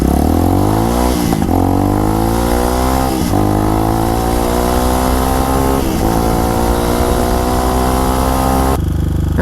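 A Tao Motor TBR7 motorcycle on a test ride, its engine loud and close throughout, revving up in repeated rising pulls with brief drops between gear changes and no talk.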